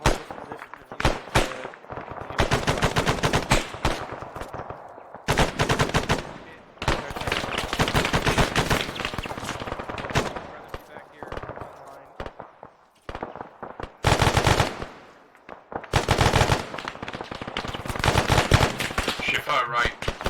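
Bursts of automatic and single-shot gunfire from an ARMA 3 platoon training battle, loud and repeated in dense volleys with brief pauses, over a voice calling out now and then.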